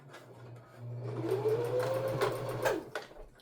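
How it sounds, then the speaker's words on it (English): A serger sewing machine trims and overlocks a fabric edge along a sleeve seam, its rapid mechanical stitching chatter rising in speed and falling off again, close and clear, with no talking. "I'm going to go ahead and stop the video and serge off these seams here"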